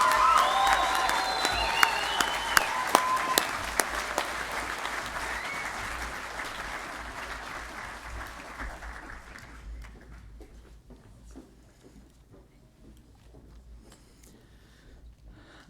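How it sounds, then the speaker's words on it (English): Sustained audience applause for graduates at a fall 2015 College of Veterinary Medicine and Biomedical Sciences commencement, dense and loud at first with a few cheers, then slowly fading to a quiet room hum. "join me one more time in a round of applause"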